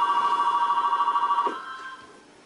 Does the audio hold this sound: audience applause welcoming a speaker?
no